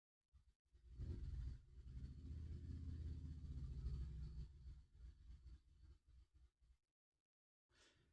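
A loud pickup truck passes nearby, a heavy engine rumble swelling in and holding for several seconds before fading away, with a brief quieter sound at the end.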